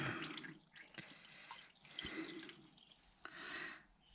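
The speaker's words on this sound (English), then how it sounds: "Let your oil filter drain as well, because there will be quite a bit of oil retained in the filter." Motor oil drips and trickles from a drained oil filter on a liquid-cooled BMW R1200GS motorcycle, a quiet run of irregular close drops and faint splashes with no voices.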